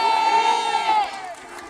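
Crowd at a Throne Day celebration in Montreal cheering and shouting, a loud sustained roar with a high voice holding a long note above it, fading slightly toward the end.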